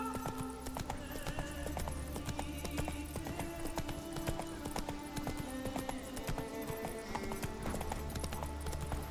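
Roach, Geralt's horse in The Witcher 3, gallops with steady, loud hoofbeats over a bed of game music, a brief whinny-like sound now and then.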